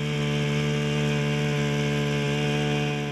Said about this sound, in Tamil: பவர் ட்ரில்லரை யூஸ் பண்ணிட்டுருக்காங்க